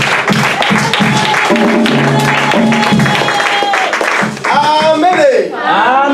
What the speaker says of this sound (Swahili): Tutachapa makofi na vigelegele kwa Mungu.